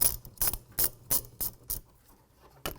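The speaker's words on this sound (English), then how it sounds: "Using a 15mm socket, loosen up the nut on the wiper arm." A ratchet with a 15mm socket clicks in quick bursts while loosening the wiper arm nut on a 2004-2010 BMW X3, roughly seven sharp, close ratcheting strokes with brief pauses between them and no voices.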